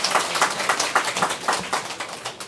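An audience at a Buddhist lecture on the Avatamsaka Sutra applauds, a steady run of fairly close hand claps across the room, dense and rhythmic for a couple of seconds.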